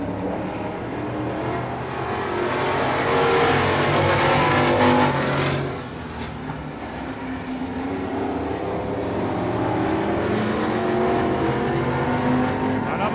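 Stock cars race at Hudson Speedway in 1989, a continuous loud roar of engines rising and falling as the field passes through the turns, steady and dense throughout.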